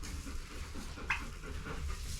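A dog pants close by in a barn brooder, a steady rapid breathy rhythm with a faint short whimper partway through.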